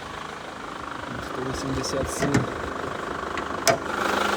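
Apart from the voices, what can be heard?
diesel car engine idling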